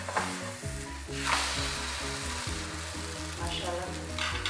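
A masala omelette fries in a pan just after flipping, a steady close sizzle with soft scraping stirs and a low humming tone underneath, no voice.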